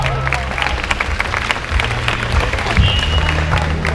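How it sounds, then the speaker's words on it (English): An audience at a live band concert applauds steadily, a dense wash of clapping with a few shouts mixed in, loud and close throughout. "You guys deserve a round of applause."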